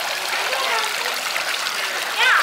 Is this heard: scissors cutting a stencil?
no